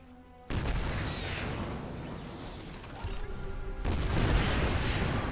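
Siege tanks fire artillery during a StarCraft match, delivering heavy booming blasts that come in two big bursts separated by a quieter lull of rumbling battle noise.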